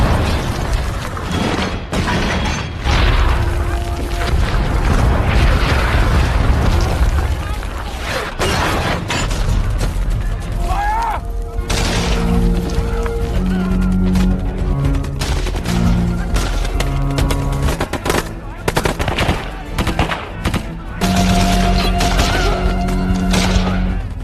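Artillery fire and explosions in a war film about a battle against Vietnamese troops, with loud booms, bursts of gunfire and mechanical clanks over a dense rumbling backdrop, mixed with voices and tonal score passages later on.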